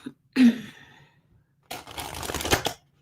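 A deck of cards gets shuffled close by in two bursts: a short riffle, a pause, then a longer rustling shuffle.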